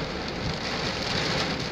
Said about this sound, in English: Exciting, energetic rain, baby.